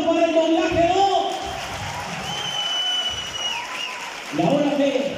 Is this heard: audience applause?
yes